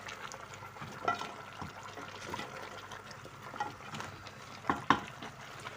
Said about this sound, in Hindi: ये हमारे पाँव की भुनाई हो रही है